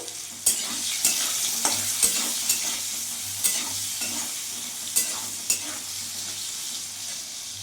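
Potatoes fry with salt and turmeric in a pan for a vegetarian cabbage dish, a constant close sizzle punctuated by regular sharp taps and scrapes of a stirring spoon about every half second.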